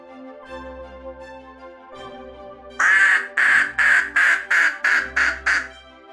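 A cartoon magic goose that lays golden eggs honks in a quick series of about eight loud, clipped squawks over light background music.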